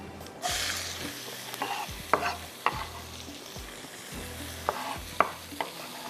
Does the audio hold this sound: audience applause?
no